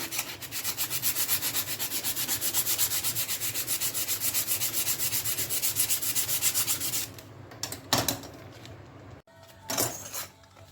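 Rust is being scrubbed off a scissors blade in quick, rhythmic back-and-forth rubbing strokes for about seven seconds, followed by a few scattered metallic clinks and handling noises.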